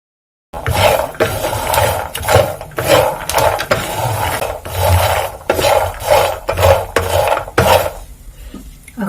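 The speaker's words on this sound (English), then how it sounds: "the trick is now to mix this continuously as I'm doing here" Groundnuts being stirred continuously while roasting in a pan, a rough scraping and rasping that comes in repeated strokes, close and loud, for several seconds without talking.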